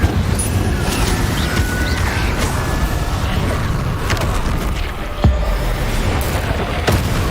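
A burst of fiery spell blasts from the Incendio charm in Hogwarts Legacy, loud and dense over a continuous game soundscape, with a sharp boom near the middle and another hit toward the end.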